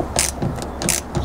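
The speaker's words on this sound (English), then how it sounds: "Put your socket on it and then get it on as best as you can" Socket ratchet clicking on the rear suspension mount nut of a MK2 Golf GTI, two quick bursts of sharp ratcheting close up, loud and without talking.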